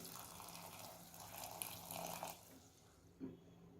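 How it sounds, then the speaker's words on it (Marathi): Hot water is poured into a matar paneer gravy of sautéed frozen peas, a soft, quiet trickle and splash that swells briefly, then settles to a faint hiss with one small knock near the end. "थोडंसं मी गरम पाणी यामध्ये टाकते ग्रेव्हीसाठी"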